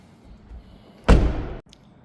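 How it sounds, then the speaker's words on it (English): A car door on a 2025 BMW X3 30 xDrive swings shut with a single solid, heavy thud, loud and close against a quiet background. "so let's close this door and we'll go to the other side next"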